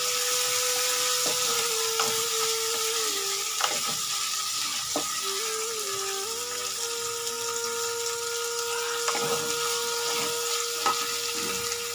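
Dried fish and radish sizzle steadily in a frying pan, with occasional scrapes and knocks of a spoon stirring them, loud and close throughout.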